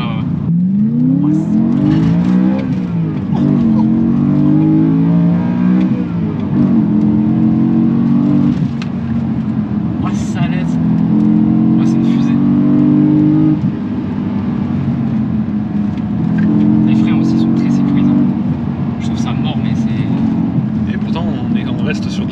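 A car with a manual gearbox revs hard through rising and falling engine pitches as it accelerates and shifts gears, loud and close from inside the cabin, with someone speaking French over it.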